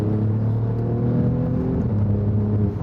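Alfa Romeo Giulia Quadrifoglio engine droning steadily at close range, a sustained low rumble with layered harmonics that dips briefly near the end as the paddle-shifted gearbox snaps through a quick change.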